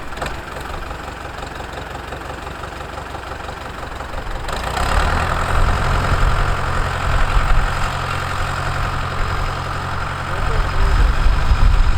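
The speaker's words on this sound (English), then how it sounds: "over the sound of the other tractor's engine" A tractor engine idles close by with a low, steady knocking rumble, growing louder and heavier partway through as a second tractor's engine runs alongside, no talking heard.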